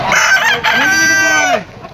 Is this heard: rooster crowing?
yes